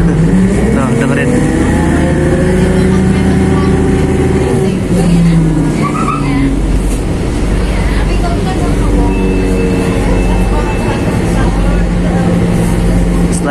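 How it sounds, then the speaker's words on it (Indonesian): Onboard the KA Kedung Sepur local diesel train after leaving Semarang Poncol, a loud, steady engine roar with shifting harmonic drones, rising and falling in pitch, with people talking over it at times. "Suara deru mesinnya ini loh."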